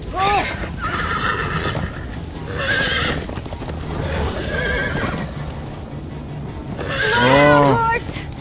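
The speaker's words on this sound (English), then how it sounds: "Horse!" A horse neighs in the video game Minecraft Story Mode, with a loud, wavering whinny near the end, a softer neigh earlier and clip-clopping hooves under game music and voices talking.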